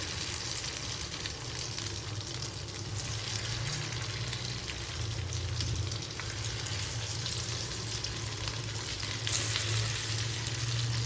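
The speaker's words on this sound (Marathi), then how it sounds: "तर आपलं आता चिकन फ्राय होतं आहे" Chicken frying in oil on a tava, a continuous close sizzle with some stirring and scraping, growing briefly louder near the end.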